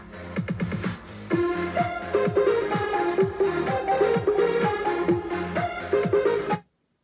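Multi-track recorded parts on a Yamaha Genos keyboard play back together, with a bass line under rhythmic chordal and melodic layers in a steady groove that stops abruptly near the end, with no talking.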